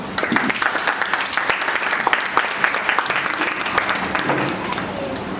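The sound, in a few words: audience applause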